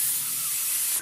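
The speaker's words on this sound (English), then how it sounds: "Do you hear that sizzle?" A steady, bright hiss of food sizzling close by, continuous and even before cutting off abruptly.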